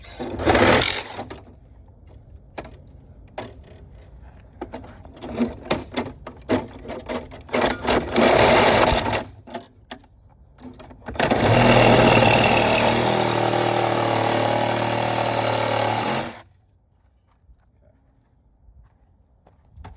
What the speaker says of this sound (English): Finish my cut with the Sawzall here.